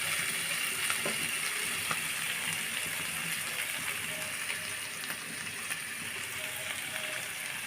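Spice paste frying in a pan while cooking spiny eel (baim fish) chorchori gives a steady, fairly loud sizzle and hiss that runs unbroken throughout, with no one talking.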